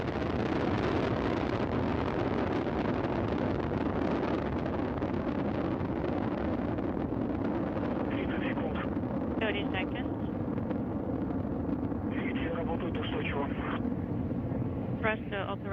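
The Soyuz TMA-15M rocket climbs away on its four boosters and single engine during the launch to the International Space Station, a continuous deep broadband roar that never lets up, with a voice speaking over it throughout.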